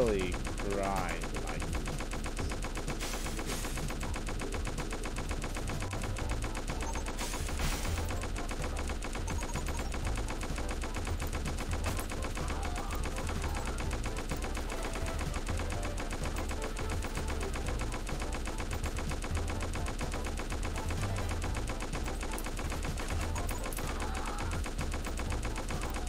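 Sustained gunfire from a shootout in the video game Island Heat, with dense, rapid shots rattling continuously over a steady game soundtrack throughout, with possible speech mixed in.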